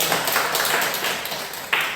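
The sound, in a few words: congregation clapping in thanks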